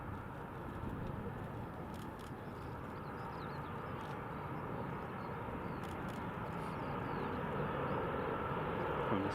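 China Southern Airbus A380 airliner at Glasgow Prestwick Airport, a distant, steady low jet rumble that slowly builds in loudness, with faint pigeon coos and bird sounds nearby.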